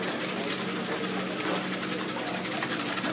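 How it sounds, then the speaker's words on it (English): Eggs seasoned with fresh pepper and a little half and half being beaten briskly with a wire whisk in a bowl for a French omelette, a fast, steady rhythmic clatter running throughout. "Now I'm going to whisk."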